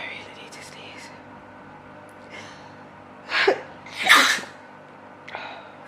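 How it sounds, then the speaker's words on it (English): A woman gives a couple of gasping intakes of breath, then a sharp sneeze, followed by a fainter snort-like exhale in a quiet room. "I really need to sneeze."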